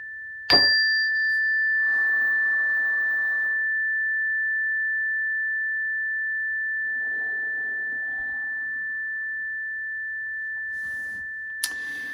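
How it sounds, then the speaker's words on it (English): Meditation chime struck once and left to ring, a clear sustained metallic tone that decays slowly over many seconds, alone apart from faint rustling, with a light second tap near the end. "we'll let that chime just ring out, and you can kind of listen to that instead of me"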